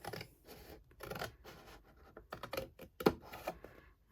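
Close, quiet snips of scissors cutting through paper or card in a crafting session, irregular bursts of rustling cuts with a sharper snap near the end.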